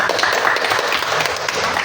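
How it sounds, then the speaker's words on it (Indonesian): Students in an Indonesian classroom clap their hands together, a short burst of brisk, fairly close clapping with faint voices mixed in. "tepuk tangan dong buat kita"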